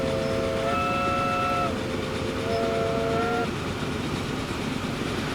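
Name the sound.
train horn in video game Transport Fever 2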